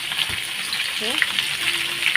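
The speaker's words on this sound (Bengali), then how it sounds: "এখন এই ডিমটা এই কড়াইটা আমি ভেজে নেব" Steady sizzling of an egg frying in a hot wok, with a brief faint voice partway through.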